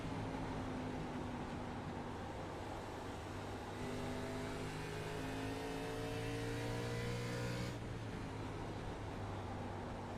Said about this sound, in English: Hear him go by. You hear the engine.